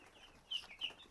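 Two short, soft clucks from a broiler chicken close by inside a chicken house, separated by a brief pause, over a faint background hum.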